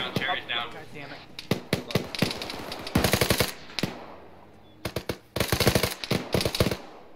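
Bursts of automatic and single gunfire in the ArmA 3 military shooter, loud, rapid volleys in several clusters with gaps between, while players talk over the shooting.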